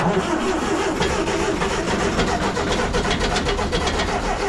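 CLAAS Compact 30 combine harvester engine starting: a dense, loud mechanical clatter and rumble that runs continuously from the start and settles into a steady running drone.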